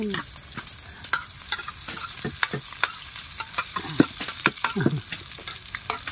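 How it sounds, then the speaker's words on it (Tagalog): Aromatics sautéing in a pan for dinuguan, a constant loud sizzle with repeated scraping strokes and clicks of a spatula against the pan, close and alone. "Nagigisa po ako kasi ng mga lamas, mga ricado kasi magluluto po ako ng dinuguan."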